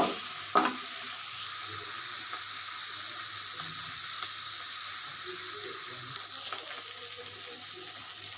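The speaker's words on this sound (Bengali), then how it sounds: "আমি চুলায় প্রথমে চিংড়ি মাছ দিয়ে দিয়েছি" Shrimp frying in a pan on the stove for a taro stolon curry, giving a steady, even sizzling hiss with a brief clink near the start and a few faint knocks throughout.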